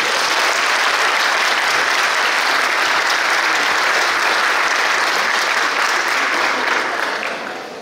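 Sustained, dense applause from an audience at a Chilean technical-professional school graduation ceremony, greeting the two teacher announcers, loud and steady throughout before tapering slightly at the end.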